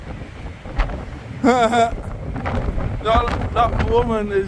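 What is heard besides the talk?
strong wind from storm Isha on Blackpool beach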